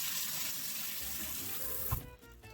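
Canned black beans rinsed under a running kitchen tap, a steady close rush of water splashing through the drained beans, then a brief clatter before the flow cuts off near the end.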